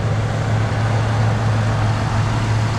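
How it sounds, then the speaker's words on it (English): A 1976 Lincoln Continental Mark IV Cartier Edition idling, a loud, steady low hum from the engine held close and unbroken, smooth with no knocks or ticking. "As you can hear the engine, no knocks,"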